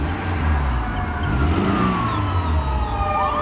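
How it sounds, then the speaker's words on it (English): A 1999 Toyota Tacoma 4x4 PreRunner with a manual transmission runs steadily nearby, a low, even engine drone with a faint higher tone drifting over it. "engine sounds good"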